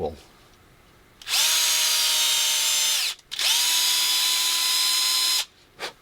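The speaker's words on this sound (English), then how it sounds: "I drill those to their full depth" A power drill whines up to full speed twice, each run lasting a couple of seconds with a brief pause between, loud and close.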